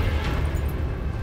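Expulso explosion spell cast in the Hogwarts Legacy video game, a dense rumbling blast with crackling debris that fills the whole moment loudly, no talk over it.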